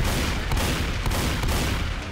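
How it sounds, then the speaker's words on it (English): Gunshots in Left 4 Dead 2, a loud, dense wash of game shooting with a few distinct sharp reports rising out of steady, noisy battle sound. "I just had like four shots all around her face."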